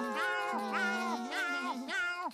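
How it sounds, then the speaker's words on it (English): A cartoon snail in SpongeBob gives four clear, tonal cat-like meows in a row, each rising and falling, close and alone. "Are your snails still meowing?"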